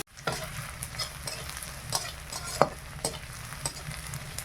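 Onions sizzling in a pan for a fish curry, with a steady fry, a few light stirring scrapes and one sharp clink of a utensil against the pan, with no talking.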